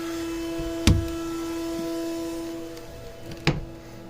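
A PrintNC CNC spindle spins at 20,000 RPM inside a closed enclosure, giving a steady, quiet tonal hum throughout, broken by two sharp knocks.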